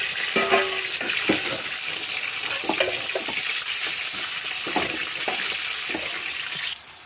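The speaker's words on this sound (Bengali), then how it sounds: "আর ওইটাতে আমার লাউ ভাজা হচ্ছে" Bottle gourd fries in hot oil with a constant bright sizzle, punctuated by repeated clicks and scrapes of stirring close by.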